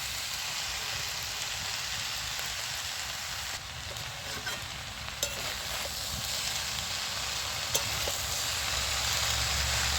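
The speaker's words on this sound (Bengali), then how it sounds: "তো সবজিটা আমার ভালো করে কষানো হয়ে গেছে। এবার শাকটা আমি দিয়ে দিচ্ছি।" Leafy greens go into a pan of sautéed vegetables for a Bengali fish-head and greens dish, giving a steady, close broadband sizzle that runs the whole time with a few faint clicks of stirring.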